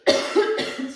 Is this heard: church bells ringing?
no